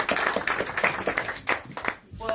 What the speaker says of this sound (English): Anyway, a round of applause.